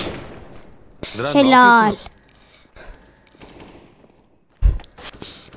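Gunfire in a shooter video game, with a sharp burst of shots late in the clip after louder game noise, while players talk in Turkish.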